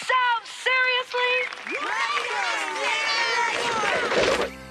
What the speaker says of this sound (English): The crowd responded enthusiastically to Pearson's query.